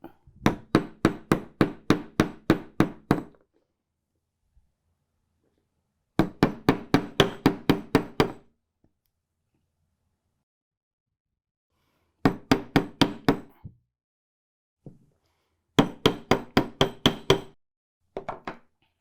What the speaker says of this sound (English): we're going to give that a good hammer, get that nice and hard and nice and flat